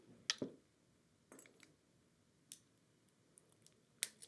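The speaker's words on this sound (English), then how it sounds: "I take up my crimping plier again and make that crimp" Crimping pliers squeezing a metal crimp bead while making a beaded bracelet: a few sharp, close, quiet clicks spaced irregularly, with near-silence between them.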